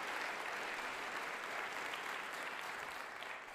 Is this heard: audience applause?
yes